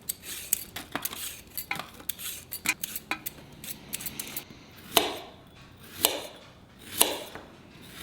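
Cutlery and dishes clink and scrape while sweet potato is cooked in a skillet, with sharp, irregular metallic taps, quiet to moderate and close by, and no talking.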